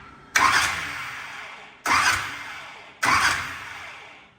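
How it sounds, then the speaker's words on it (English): A 10-litre supercharged big block engine in a monster truck is cranked over three times, each a loud close starter burst that fades off, separated by short pauses, with no voices. "Gonna build the oil pressure up first, so I'm just gonna crank it over. So I'm gonna bump it first."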